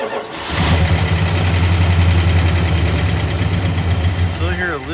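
A 1965 Chrysler 300L V8 convertible with a factory four-speed cranks and fires, then settles into a loud, steady idle with a ticking lifter clatter and possible exhaust leak, close up, with some talk nearby.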